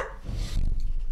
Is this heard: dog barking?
yes